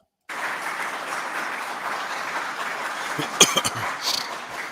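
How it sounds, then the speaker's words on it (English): An audience claps at a UFO congressional hearing, with steady, full applause running for several seconds in a large room, and a few louder thumps near the end. "Y'all quit clapping."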